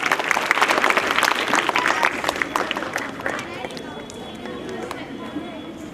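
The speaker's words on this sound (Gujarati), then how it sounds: "સર માટે જોરદાર તાળી" Group applause for the instructor at a physical training camp, dense clapping from a crowd that tapers off into lighter scattered claps, with voices heard over it.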